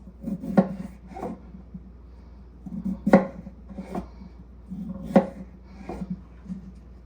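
A knife slicing through a potato on a cutting board, with several distinct, evenly spaced chopping knocks over a soft rubbing scrape, close and clear, no voices.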